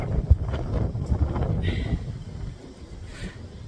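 Strong Alaskan wind in the Mat-Su area during the windy season buffets the microphone with low rumbling gusts that ease off partway through.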